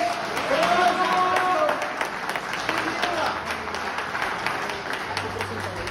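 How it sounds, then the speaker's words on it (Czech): A crowd applauds for two arm wrestlers at the Arm Rivals 8 street armwrestling event, with steady clapping throughout and someone talking over it. "Ještě jednou potlesk pro borce."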